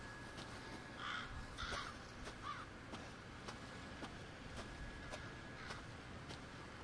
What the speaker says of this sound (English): Oh, okay, there goes the crows.